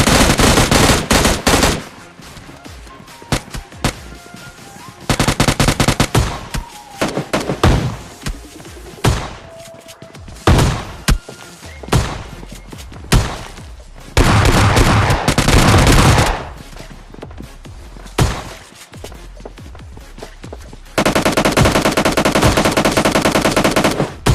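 M16 rifle fire in a PUBG-style battle royale game: loud, close bursts of automatic shots in rapid rattling volleys, broken by short pauses and single cracks, with one long sustained burst near the end.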